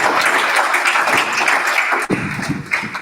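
An audience at an Abuja chapter technical and business meeting gives a round of applause to welcome a speaker, a loud burst of clapping that drops away suddenly partway through, leaving a few scattered claps.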